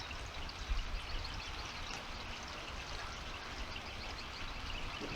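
Water poured into a measuring cup during a science experiment, a quiet steady splashing stream lasting a few seconds, close and soft, with no one talking.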